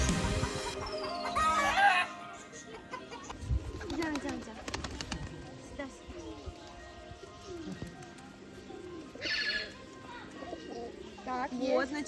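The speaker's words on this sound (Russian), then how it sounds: "Мы надеемся, что тут будут сидеть голуби" Pigeons cooing and fluttering outdoors amid a busy ambient bed with speech, soft repeated coos scattered through, some chirps, moderately loud and mixed with background noise.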